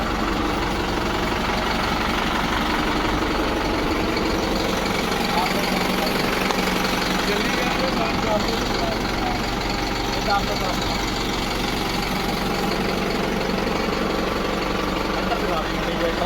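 A 4x4 tractor engine idles with a steady low rumble and rattle, continuous and close, while people talk over it.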